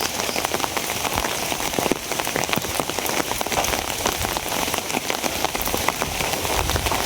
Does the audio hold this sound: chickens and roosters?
no